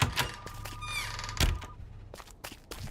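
A back door in a video game is tried, giving a few clunky thunks and a squeaky, creaking slide, with short knocks spaced across a quiet background.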